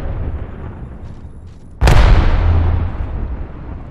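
An Arc Star grenade detonates in the video game Apex Legends, a single sharp, loud burst followed by a crackling electric rumble that trails off over a couple of seconds against game background noise.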